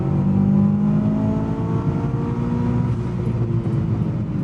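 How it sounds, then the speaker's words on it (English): A 1999 Mitsubishi Lancer Evolution VI engine gives a heavy throttle blip for a rev-matched downshift, a loud rising then falling engine drone inside the car, with no talking. "it takes quite a heavy blip to actual rev match"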